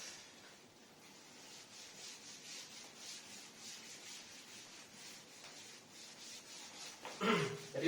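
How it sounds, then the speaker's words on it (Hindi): Board being erased by rubbing in a classroom, a soft, faint, continuous scrubbing with a slightly louder scrape at the end. "उसे स्टार्ट करने से पहले मैं चाहता हूं कि इसे हम लोग अच्छे से रब कर दें"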